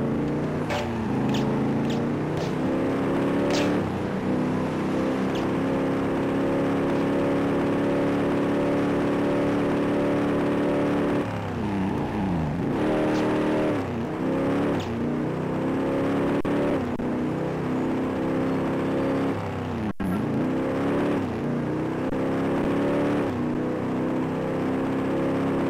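A car engine in the Driver '76 video game revs and drones loudly and continuously, its pitch rising and falling through repeated accelerations.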